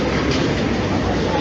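A Baku metro train runs steadily, a dense continuous rumble and rolling rail noise filling the whole stretch at close range, with no clear pauses.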